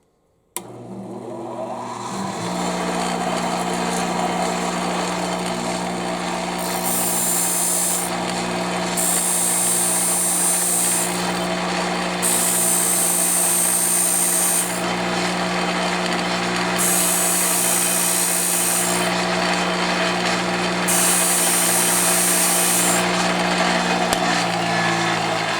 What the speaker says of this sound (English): I'll slowly grind away at that until I see the sparks come over the top.